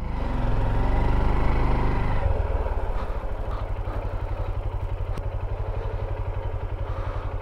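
A Honda XR150 motorcycle engine labors loudly on a steep mountain road, then drops into a steady, rhythmic low chugging that continues evenly, close and without talk.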